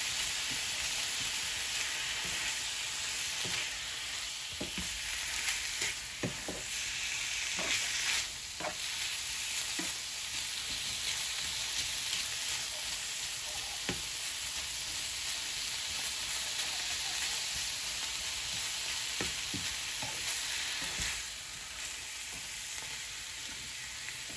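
Ground beef browns in a pan with a constant hissing sizzle, broken by occasional spatula scrapes and taps as it is broken up; close, steady and without speech.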